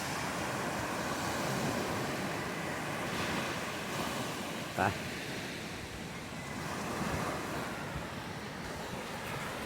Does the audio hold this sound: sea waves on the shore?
yes